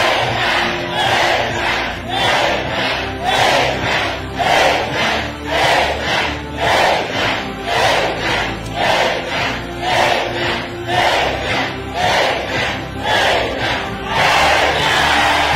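A church congregation at a midday prayer service shouts loud, rhythmic amens together, the roaring chants rising and falling in regular waves about once a second, dense and loud throughout.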